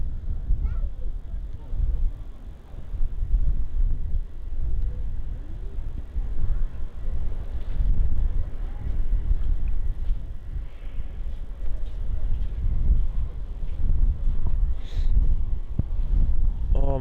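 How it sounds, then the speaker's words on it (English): Strong, freezing wind buffets a microphone outdoors at Stockholm Arlanda Airport, making uneven low rumbling gusts that rise and fall over a quiet background, with a voice speaking at times. "this wind is a nightmare"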